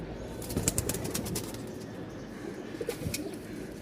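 A white male Gorra pigeon with a full white tail coos nearby and flaps its wings in short bursts of fluttering, with quieter bird sounds in the background.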